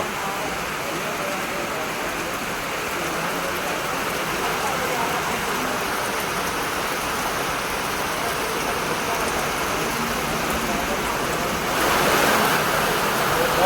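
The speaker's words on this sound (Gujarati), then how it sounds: "નગરમાં લાઈવ વરસાદ છે ભાઈ" Heavy rain drums steadily on a truck in town, a dense broadband hiss that holds evenly throughout and swells slightly louder near the end, with no voices over it.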